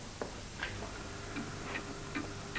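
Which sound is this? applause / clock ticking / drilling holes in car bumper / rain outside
clock ticking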